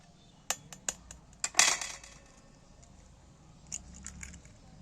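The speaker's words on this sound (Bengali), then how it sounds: "এখানে একটা বাটি নিয়েছি আমি ডিমটাকে ফাটিয়ে নিচ্ছি" Eggs being cracked against a bowl for a home-cooked egg recipe, a few sharp close taps followed by a brief crunchy break and splash, then quieter clinks, with no talking.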